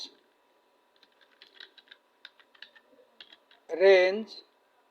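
Light, rapid keystrokes on a computer keyboard while VBA code is entered in Microsoft Excel, a sparse run of faint clicks followed by a short burst of speech.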